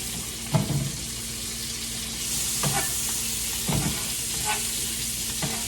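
Salmon and scallops sizzle steadily in a pan, the hiss growing a little fuller midway, while a few distinct knocks and scrapes mark the pieces being flipped, close up and with no talking.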